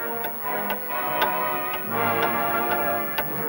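A time bomb ticks with a steady, sharp, evenly spaced rhythm, each tick distinct and fairly loud over a tonal musical background in an animated adventure scene, with no speech.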